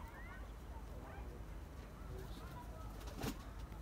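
Racing pigeons in flight over a loft, soft coos and bird calls faint in the distance over a low background hum, with a brief louder burst near the end.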